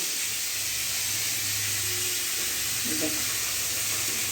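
Water poured into a hot pan of cooking meat hisses and sizzles with a steady, bright, loud spray that holds throughout, while a low hum sits underneath.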